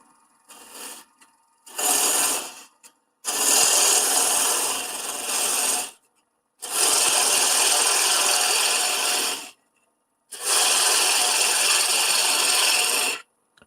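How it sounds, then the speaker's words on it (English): A bowl gouge takes pull cuts on a spinning face-grain wood blank on a lathe, producing five bursts of steady hissing, rasping cutting noise of growing length separated by short silences, close and loud without speech. "Take the bowl gouge and just kind of do some pull cuts along here, some marking cuts"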